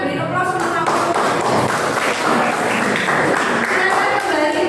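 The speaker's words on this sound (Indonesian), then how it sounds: "kita beri aplaus sama-sama" A church or prayer-meeting audience applauds together. The clapping is steady and fairly close, with a crowd clatter that stays even throughout and voices mixed in underneath.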